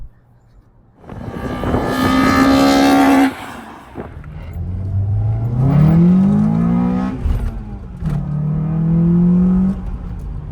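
A car with a 2.4-litre four-cylinder engine revs hard and accelerates through the gears, its loud rising engine note close by, with brief drops between shifts.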